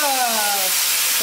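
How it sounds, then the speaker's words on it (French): Rice alcohol flambéing in a pan gives a loud, steady rushing hiss of flame and sizzle close by, with a short voice-like tone at the start. "ça flambe"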